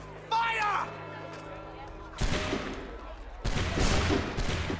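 Musket volley fired by soldiers in Assassin's Creed 3, two loud crackling bursts of massed shots following a short shouted voice, with echoing tails between them.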